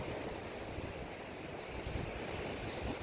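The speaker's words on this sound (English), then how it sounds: "There's like little waves down here" Small waves washing ashore at Melbourne Beach, a soft, steady surf rush heard faintly at a distance with light wind noise and no voices.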